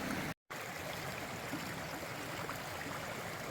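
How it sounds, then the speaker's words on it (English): Creek water flows steadily at a wide crossing on a Great Smoky Mountains trail, a continuous rushing and burbling stream close by, with a brief dropout early on and no voices. "A little bit of a wider creek crossing here."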